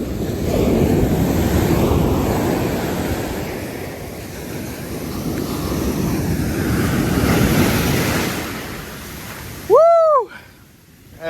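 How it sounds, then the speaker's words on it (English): Ocean waves crash and wash in a continuous roar with gusting wind on the microphone, swelling and easing, followed by a brief high squeal near the end. "Those are some good sized waves."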